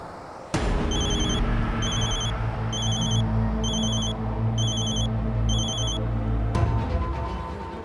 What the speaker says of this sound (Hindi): जरूर ये उस ब्लैकमेलर का फोन होगा।